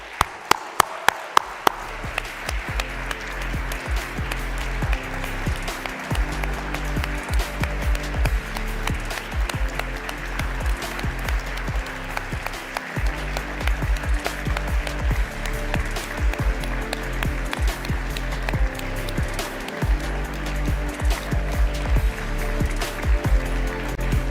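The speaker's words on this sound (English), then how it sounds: "please give her a big round of applause." Audience applause at an awards ceremony for a lifetime achievement award, steady dense clapping from a large crowd lasting throughout, with a few sharp claps at the start.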